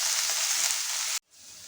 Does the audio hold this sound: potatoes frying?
yes